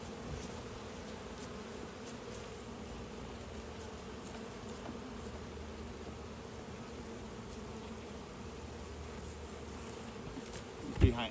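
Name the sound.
honey bees buzzing around hive frames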